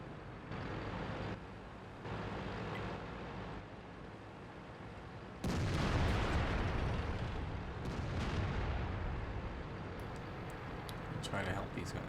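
Artillery fire in World of Tanks booms as a sudden heavy blast that lingers in a dense rumble, following steady engine and battle noise, with a voice talking throughout.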